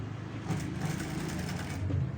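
Sewing machine stitching blouse fabric in a steady, continuous whirring run, close and fairly loud for the whole stretch without talk.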